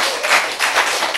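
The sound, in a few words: applause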